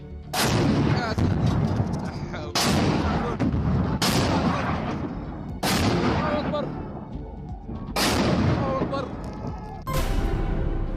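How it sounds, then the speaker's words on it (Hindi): Loud bursts of gunfire and heavy blasts in the streets of Khartoum, Sudan, during urban fighting, arriving in repeated clusters every two seconds or so with dense reverberating crackle between them. "खार्तूम में जगह जगह फायरिंग की आवाज सुनाई दे रही है।"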